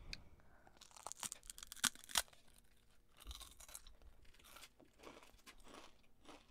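Crunchy Japanese snacks from a Tokyo Snack Box being bitten and chewed up close, with irregular crisp crunches and crackly tearing bursts over about six seconds and no talking.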